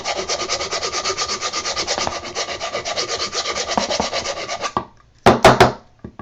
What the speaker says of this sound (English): it's going to make a mess, okay, because you're sanding off the paint